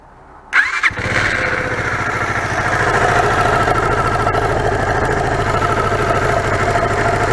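A Lexmoto ZSB 125 motorcycle, with its valve covers off, cranks over and fires up close by, then settles into a steady, slightly rattly idle that runs on for several seconds.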